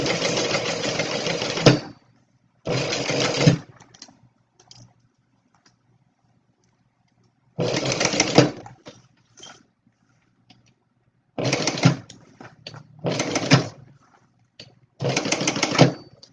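A sewing machine stitches a Stella Weekender bag in several short bursts of steady, rapid whirring, separated by quiet pauses with faint clicks and handling sounds.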